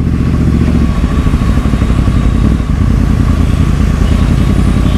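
A loud, steady engine roar from a motorcycle on a busy road, close and continuous, with traffic rumbling around it and no talk.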